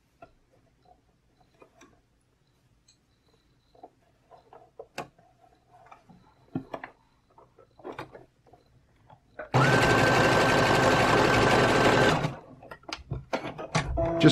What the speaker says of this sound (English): Just run it for a few seconds just to make sure it's a nice thick stitch.